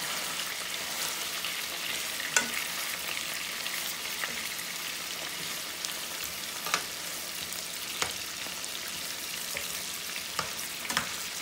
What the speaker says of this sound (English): we're just going to let them onions just fry up in that wonderful oil